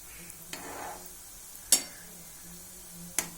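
Round banana pitha balls fry gently in oil over low heat. A faint sizzle runs throughout, with a few sharp taps and clinks from stirring in the pan.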